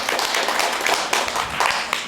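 A live audience at the Ground Zero Lounge gives a short burst of clapping, a brief patter of hands at moderate distance lasting about two seconds with no speech.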